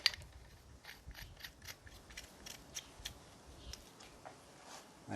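A bolt being fitted into a clamped brake caliper conversion bracket for a 1995 Honda Accord using an Acura RL caliper, producing quiet metallic clicks, ratcheting and scraping taps, close up with no talking.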